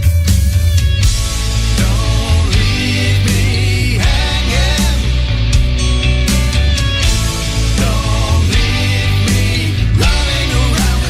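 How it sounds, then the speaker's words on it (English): A live band from Ballymena playing an acoustic set in a radio studio: full, loud continuous music with strummed chords, steady rhythm and a strong low end, no talk over it. "That's the sound of a band."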